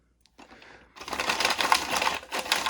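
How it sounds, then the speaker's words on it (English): Game cards for Incan Gold are shuffled close to the mic. A short riffle starts with a quick burst of crisp flapping and ends in a soft ruffle. "Shuffle this up one more time."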